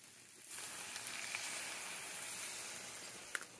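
Vegetables sizzling in a hot pan at a winter woods camp inside a heated tent, a steady close hiss that swells as soy sauce hits the pan to deglaze, with a couple of faint clicks.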